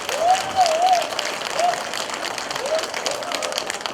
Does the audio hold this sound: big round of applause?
yes